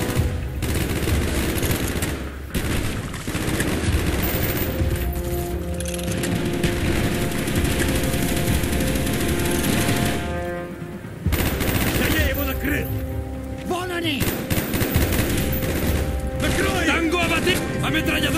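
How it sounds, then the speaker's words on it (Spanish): Sustained machine gun fire and overlapping gunfire crackle through a Call of Duty Black Ops battle, loud and nearly continuous with brief lulls, while combat shouts and game voices sound over the shooting. "¡Ametralladora en la torre!"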